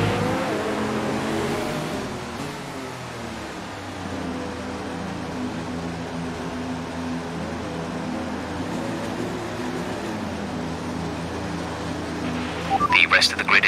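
A Formula 1 car's engine droning steadily on the formation lap of the Brazilian GP in the F1 2019 racing game, a continuous mid-level hum with a voice speaking over it and a few sharper bursts near the end.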